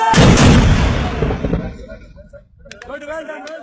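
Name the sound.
army mortar being fired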